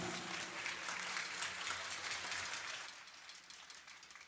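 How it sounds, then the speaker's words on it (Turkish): Large crowd applauding at a political party's 100th anniversary celebration, a loud, dense burst of clapping with a low hum beneath that thins out toward the end. "kocaman alkışlar mısınız lütfen?"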